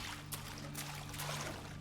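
Rushing water from a waterfall being parted in the video game Black Myth Wukong, a steady broad wash with a low hum and a few brief bursts, moderately loud and continuous with no talk.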